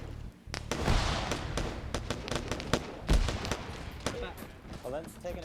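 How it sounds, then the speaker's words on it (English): Automatic rifle fire in a military-style video game, a rapid series of sharp, fairly close shots in bursts under ongoing commentary, with one heavier report near the middle. "there's the shooting by that auto rifleman"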